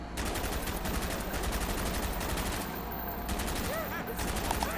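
Rapid full-auto weapon fire in Black Ops zombies (Nacht der Untoten), continuous dense bursts filling the whole stretch at steady high loudness, with game effects mixed in.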